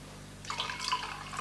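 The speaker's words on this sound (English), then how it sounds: "And just pour your drink." Homemade green juice poured into a glass, a short liquid trickle and splash that starts abruptly midway and runs on close and fairly soft over a quiet background.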